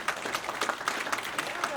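Audience applause at a gubernatorial candidates' debate, a brief burst of many hands clapping at close to moderate distance, with the scattered claps running steadily through the short moment.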